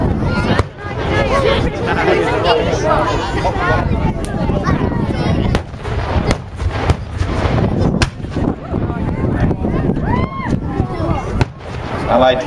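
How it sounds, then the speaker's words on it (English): At a WWII reenactment show, artillery booms and crackling blasts ring out over a field, with repeated sharp reports throughout and crowd babble mixed in. "German artillery still reacting."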